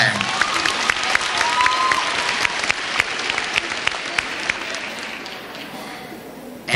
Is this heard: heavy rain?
no